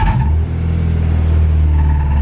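Honda Civic EG6 engine idling just after start-up, a loud, close, steady low rumble with a brief dip early on, then an even hum throughout, no talk.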